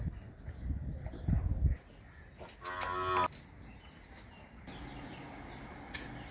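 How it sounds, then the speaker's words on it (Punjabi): Calves on a dairy farm call out, a loud low moo sounding clearly near the middle of the clip, with close rustling and shuffling before it and faint birds chirping in the background afterward. "ਇਹ ਹੈਗੇ ਜੀ ਆਪਣੇ ਨਿਆਣੇ ਆਪਣੀਆਂ ਗਾਵਾਂ ਦੇ"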